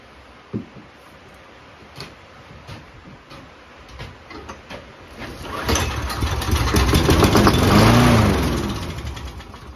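An old scrap-pile lawn mower engine cranks a few times with sharp pulls, then catches and runs, its putter rising louder and rougher before easing slightly, with no one talking.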